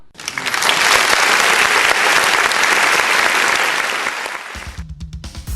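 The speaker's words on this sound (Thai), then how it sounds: "ปรบมือให้กับตัวเองด้วยครับ" Children clap for themselves in a loud, dense burst of applause that swells quickly, holds steady for several seconds, then fades out as a voice begins at the end.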